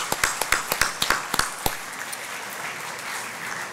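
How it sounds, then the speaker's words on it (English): A short burst of applause from a university welcome ceremony audience, with distinct, sharp claps for about two seconds, fading into a low room murmur. "give a good round of applause to your parents"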